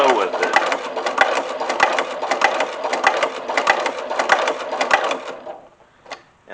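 A sewing machine stitches through a leather drawstring pouch in a fast, rhythmic run of needle strikes, stops near the end, then gives one brief extra burst. Loud and close, with a person talking over it.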